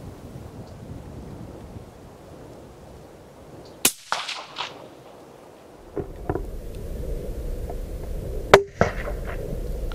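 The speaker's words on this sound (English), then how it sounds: "the impact to me sounded a lot louder than the actual gunshot" An air rifle fires at a magpie outdoors, with a sharp crack followed by a thudding pellet impact, another sharp report later, set against soft wind noise and quiet ambience.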